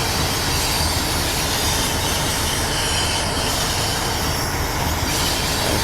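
Train running in Train Simulator Classic, a continuous loud rumble of wheels on rails with rattling carriages and occasional high squealing, steady and close for the whole stretch.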